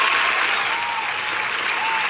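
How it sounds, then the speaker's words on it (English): A canned applause sound effect triggered by a podcast host, a short, smooth, even wash of crowd clapping that is bright and loud throughout, with no talk over it. "Let me hit the round of applause because that's important"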